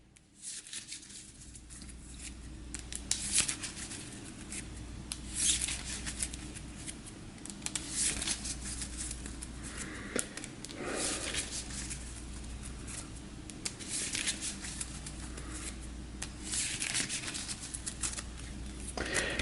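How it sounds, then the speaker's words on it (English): Tarot cards being shuffled up close in repeated riffling and sliding bursts, quiet and continuous with short pauses between passes. "we'll go ahead and give this a quick shuffle"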